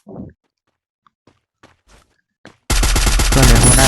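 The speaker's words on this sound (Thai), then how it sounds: "เฮ้ยใครยิงอ่ะ" Gunfire in the Free Fire mobile game, with sparse faint clicks and footsteps followed by a sudden loud, continuous burst of rapid automatic shots.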